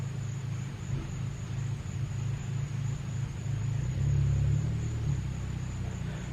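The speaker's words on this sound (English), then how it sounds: "That sound that you hear, that sounds like the car." A car on a residential street outside, like the postman's car, rumbles by at a distance as a low, faint engine drone that swells slightly midway before easing off.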